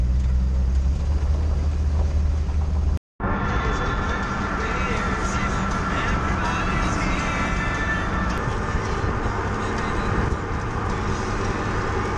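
A Jeep driving along a road on the way to a rattlesnake hunt, a loud, continuous rumble of engine and wind noise with one brief dropout early on, the steady drone carrying on throughout.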